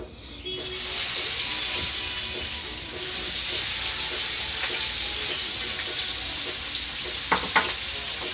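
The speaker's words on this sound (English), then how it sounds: "What we're going to do now is throw our onions in there." Onions hit a hot pan of meat drippings and break into a loud, steady sizzle that holds throughout, with occasional stirring clinks near the end.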